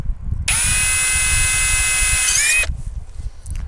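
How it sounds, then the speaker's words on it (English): A power drill drilling a small pilot hole in a pipe whines at a steady high pitch for about two seconds, close up, then stops, leaving quiet room noise. "all I'm going to do is come in here and I'm just going to drill"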